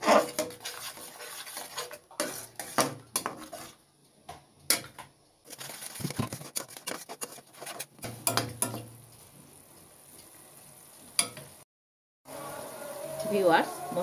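A spoon scrapes and clinks in a pan while a spice paste of ginger paste and tomato puree is stir-fried, with irregular close metallic taps and scrapes and brief pauses, and a voice is heard at times.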